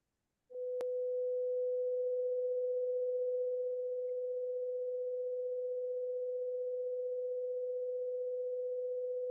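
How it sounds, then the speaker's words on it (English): A steady 500 hertz pure sine tone begins after a brief click and holds unchanging at a constant level, clean and unbroken, with nothing else heard. "500 hertz pure sine wave"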